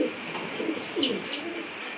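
A pair of pigeons for sale coos softly and steadily up close, with low throaty rolls and a few faint chirps mixed in, and no voices.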